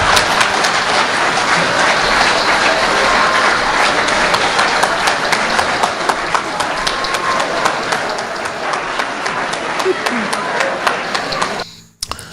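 Audience applause after a speech on St. Kitts and Nevis government, dense sustained clapping with cheers mixed in, loud and close, fading out abruptly at the end.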